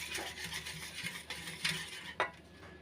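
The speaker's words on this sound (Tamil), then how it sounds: "இப்போ கட்டி எது இல்லாமல் இந்த விஸ்கை வச்சு நல்லா மிக்ஸ் பண்ணிக்கலாம்" Yogurt, about half a litre, whisked smooth in a bowl with a wire whisk, making soft, continuous scraping and stirring sounds with a few light clinks of metal against the bowl near the end.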